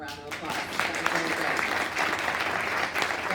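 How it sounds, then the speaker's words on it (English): An audience applauds panelists at the close of an industry insights and networking event in New York City, with steady, dense clapping filling the room throughout and faint voices mixed in beneath it. "Let's give them one more round of applause."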